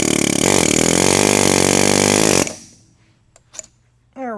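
A pneumatic air hammer pounds on 3/4-inch tie rod bolts of an old tractor's manual steering, a loud, rapid, continuous rattle for about two seconds that stops abruptly, followed by faint metallic clinks and rustling.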